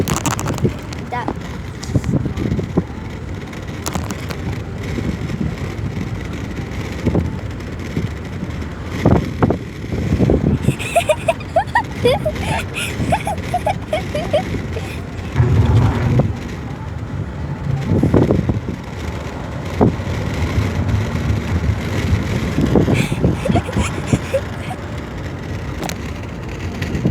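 Strong gusts buffet the microphone outdoors on a windy day, a rough, uneven rumble with crackling bursts that continues throughout, while a voice speaks intermittently.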